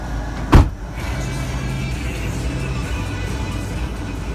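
An Abarth 500C 1.4 car engine cranks with a brief loud burst, then settles into a steady low idle rumble that holds close and even with no talk.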